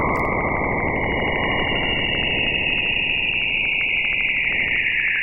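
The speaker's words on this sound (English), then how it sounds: "But what you're actually hearing is charged particles moving through Jupiter's magnetic field near the planet's poles." Recorded radio emission from Jupiter's auroras, where charged particles spiral along the planet's magnetic field near the poles: a dense, constant static roar with a faint gliding whistle-like tone riding on top, unbroken for several seconds.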